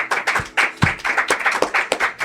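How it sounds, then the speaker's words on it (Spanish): Studio audience applause at the opening of a television talk show, a short burst of brisk, close, fairly loud clapping from a small crowd, uneven and slightly ragged. "Recibimos el aplauso cariñoso de nuestro público"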